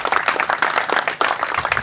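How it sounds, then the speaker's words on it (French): Brief burst of congregation applause at a pastors' conference church session, many hands clapping quickly and unevenly, fairly close and lively. "Applaudissons."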